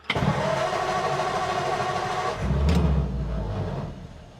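A 1947 Ford engine fitted with an Amazon-bought Holley 94 carburetor catches and runs, with a sharp start followed by a rough, rumbling mid-pitched idle that swells briefly with a rev before settling.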